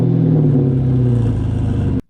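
Exhaust on a 5.7L HEMI car gives a loud, deep, steady rumble close by for about two seconds before stopping abruptly.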